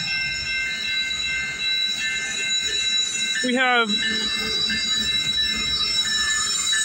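A Canadian Pacific freight train hauling loaded ethanol rolls past in Campbellville, Ontario, on a frigid night, with a steady rumble and whine and a brief rising squeal midway. Someone talks over it.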